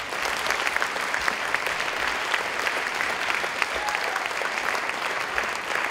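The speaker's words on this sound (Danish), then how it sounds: "skal vi ikke give en klapsalve ud?" At an awards event honoring volunteers and athletes, a crowd gives a long, sustained round of applause, close and loud, with a few sharper individual claps standing out.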